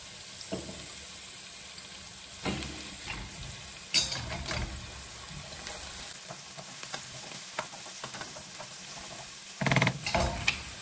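Onion with bell pepper being added, frying in a pan for a seafood cassoulet, giving a soft, steady sizzle broken up by scraping stirs and a few louder clatters of utensils.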